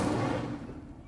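An Incendio fire spell in Hogwarts Legacy bursts with a single deep, muffled whoosh that swells at once and then fades quickly.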